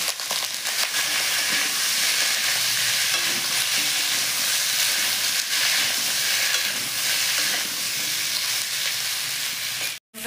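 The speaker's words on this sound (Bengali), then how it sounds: "দেখেন আলুটা লাল লাল করে ভেজে নিচ্ছি।" Potatoes and green banana fry in a pan with a continuous loud sizzle and hiss, a few stirring knocks near the start, then an abrupt cut at the end.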